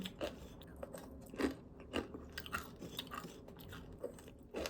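Close, crisp crunching and chewing of crunchy granola, with repeated bites and steady mastication in a quiet room.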